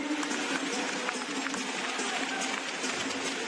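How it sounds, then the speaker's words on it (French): A basketball crowd in an indoor arena applauds a substituted player as he leaves the court, a steady wash of clapping and crowd noise at an even level throughout, with no single voice standing out. "Sortez sous vos applaudissements"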